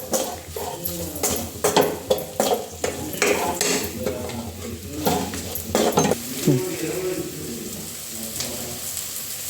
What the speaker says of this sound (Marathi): सर्व जिन्नस एकजीव करून घ्यायचे।